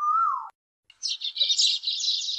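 Small sparrow gives a rapid, continuous run of high chirps and twitters, fairly close and clear, following a short separate whistled tone and a brief pause.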